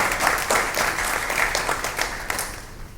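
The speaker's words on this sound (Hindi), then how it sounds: "उनके लिए जोरदार ताली आप सबकी तरफ से होनी चाहिए।" Audience at a Hindi Diwas award ceremony applauding an honoree, a crowd clapping with uneven, slightly rhythmic bursts of hands, moderately close, fading a little toward the end with no talking.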